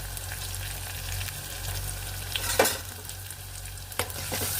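Ginger pieces and curry leaves fry in hot oil in a pan for a fish curry, giving a steady close sizzle and crackle with a few sharp spatters and the scrape of stirring, with no talking.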